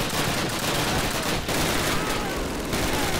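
Rapid submachine gun fire in Call of Duty, loud and dense bursts filling the scene with sustained crackling shots and brief gaps, close to the listener.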